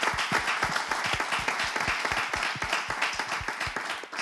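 An audience claps in a steady, dense round of applause, many hands beating together at an even rhythm throughout, fairly close and loud, with no voices standing out.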